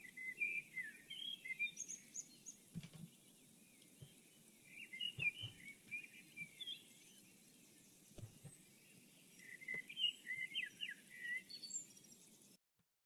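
Pet bird chirping indoors, bursts of short high tweets repeating across the clip over a quiet background with a few soft knocks.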